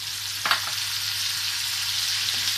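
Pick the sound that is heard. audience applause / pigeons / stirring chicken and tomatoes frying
stirring chicken and tomatoes frying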